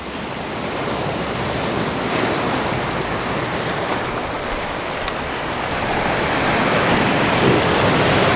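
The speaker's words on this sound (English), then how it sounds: "some of the bigger waves are breaking up quite high." Ocean waves break against a rocky shoreline in a steady, loud roar of surf with wind, swelling slightly louder toward the end and without any voices.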